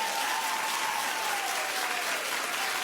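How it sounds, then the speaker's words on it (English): A studio audience at a daytime talk show applauds steadily and loudly for about three seconds, a dense wash of clapping with a faint crowd murmur and no clear speech. "Clap if you're that girl."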